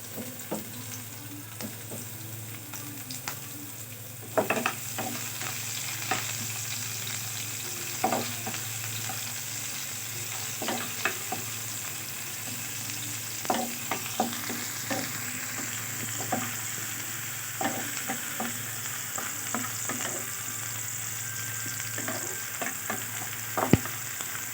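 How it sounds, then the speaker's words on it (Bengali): Chopped onions fry in a pan after garlic, a steady sizzle running throughout, broken by frequent scraping clicks of a spoon stirring them, with no voices. "পেঁয়াজটা আমি একটু বাদামি কালার হওয়া পর্যন্ত ভেজে নেব।"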